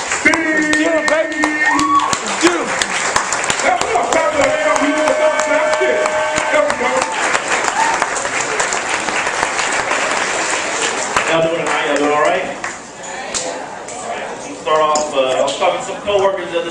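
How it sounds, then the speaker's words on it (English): A comedy club audience bursts into loud, sustained clapping and applause over booming music, with a host talking through it before the noise dies down near the end. "Y'all clapping up right now for my man."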